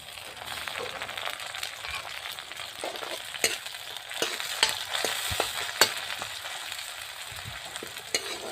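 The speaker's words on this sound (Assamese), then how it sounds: "বিলাহীখিনি নোহোৱালৈকে ভাজি থাকিম।" Tomatoes sizzling and frying in a pan with onions while making fried rice, a steady close crackle with occasional sharper pops and stirring scrapes throughout, no talk.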